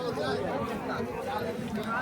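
Dense crowd chatter fills a busy bhandara (community feast) at the Shani temple in Morena on Shani Amavasya, where people eat puris; many overlapping voices form a steady, close hubbub.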